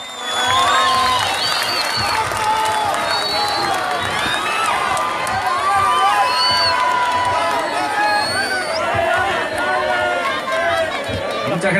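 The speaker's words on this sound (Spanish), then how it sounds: "¿Dónde están los fuertes aplausos, por favor?" Loud, sustained crowd noise at an outdoor political rally in San Julián, Santa Cruz, with cheering, shouts and whistles layered over chatter, and only light clapping mixed in.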